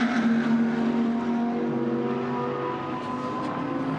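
GT race cars, including an MS Racing Audi, racing at the Sachsenring in ADAC GT Masters: a steady, loud engine roar with droning tones that shift in pitch as the cars pass, with no speech.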